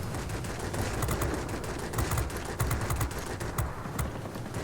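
Aircraft machine guns fire in World of Warplanes from a Yak fighter, a steady rattling stream of rapid bursts over constant engine roar, fairly loud and close.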